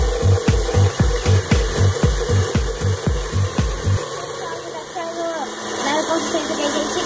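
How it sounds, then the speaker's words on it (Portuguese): An electric stand mixer beats whipped cream for a dessert, its beaters slapping in a steady fast rhythm for about four seconds before stopping, with a person talking nearby. "a gente vai deixar batendo aqui na batedeira"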